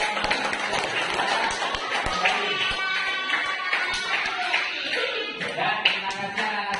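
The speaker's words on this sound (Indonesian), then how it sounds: "Kita beri tepuk tangan." A classroom of children claps for a discussion group, producing a steady, moderately loud patter of many hands with scattered sharper claps and faint voices underneath.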